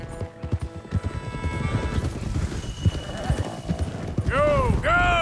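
Mustang horses gallop in the video game Red Dead Redemption 2, with rapid, dense clip-clopping hooves throughout and a couple of whinnies near the end, loud and close under game audio.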